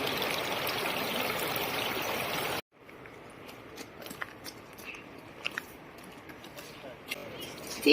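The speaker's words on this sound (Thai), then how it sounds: "เห็นเป็นสายตรงนี้คือน้ำตกนะคะ" A waterfall in Norway pours as a steady, loud broadband roar for a few seconds, then drops away to a quieter outdoor ambience of trickling water with small scattered clicks and knocks.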